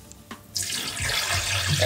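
Cold tap water gushes steadily into a pot of sushi rice being washed, a continuous close splashing flow that starts after a brief quiet moment and holds loud to the end.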